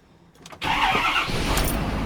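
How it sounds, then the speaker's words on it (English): A truck engine cranks briefly with a few starter bursts, then catches and settles into a loud, steady idle close by. "let's start up the truck and see if it makes a difference"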